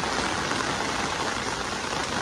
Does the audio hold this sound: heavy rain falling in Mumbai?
yes